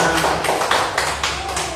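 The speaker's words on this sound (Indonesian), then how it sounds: "Tepuk tangan buat anak-anak" Classroom of children clapping together in a rhythmic patterned clap, several loud bursts in quick succession, close and lively with faint voices underneath.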